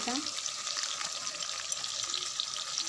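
Mustard oil sizzles in a hot wok while an Odia pumpkin and chickpea curry is cooked, a dense, even frying hiss heard close and fairly quiet, with no talking.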